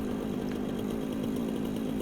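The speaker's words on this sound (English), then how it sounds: "get the trusty chainsaw out and clear this out" A chainsaw runs steadily at high revs in the video game Satisfactory, clearing trees with a loud, continuous buzzing drone that holds without a break.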